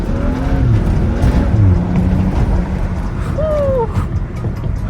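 A BMW 335i accelerates hard on the road, its engine note rising in a steady pull heard from inside the car, with a low constant roar throughout and a brief whistling sweep near the end.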